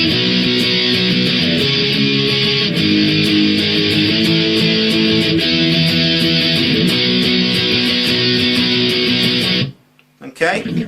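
Electric guitar strums a song's verse chords with a thick, distorted tone, loud and continuous for about ten seconds before cutting out, followed by a brief burst of scratchy noise.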